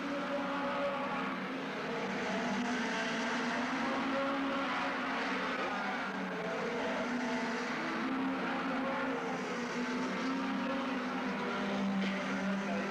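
Hot rod race cars roar around the oval at Northampton in 1985, several engines blending into a dense, continuous howl that holds steady and loud for the whole stretch, with no voices over it.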